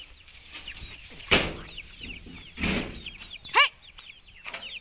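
Baby chicks cluck and cheep in repeated short calls close by, broken by a few louder wing-flapping bursts, with no voices.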